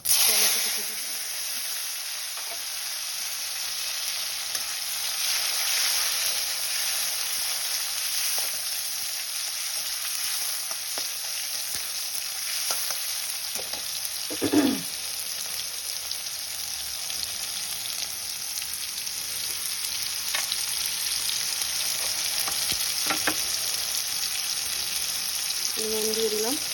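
Mustard oil sizzles and hisses steadily in a wok with nigella seeds, a continuous bright frying crackle with occasional stirring scrapes and small pops, close and fairly loud throughout.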